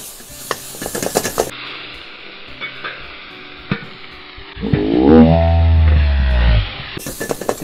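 Meat frying in butter and oil in a pan, seasoned with salt and pepper; loud steady sizzle swells in after scattered clatter and stirring, holding for a couple of seconds before cutting out.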